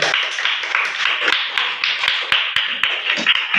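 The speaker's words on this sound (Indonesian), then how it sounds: "Terima kasih, tepuk tangan." A classroom group claps in a steady, close burst of applause lasting a few seconds, with sharp individual claps standing out from the crowd.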